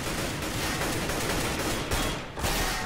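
Dense, continuous Counter-Strike gunfire from a de_train match between ESC Gaming and Natus Vincere at the TECHLABS Cup 2013, overlapping shots forming a steady loud wash of fire with no voices over it.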